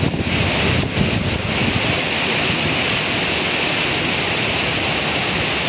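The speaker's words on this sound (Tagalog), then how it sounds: "lakas ng hangin" Strong typhoon wind roars across rural Camarines Norte, a loud, steady, broadband rush with heavy gusting buffeting the microphone throughout, alone without talk.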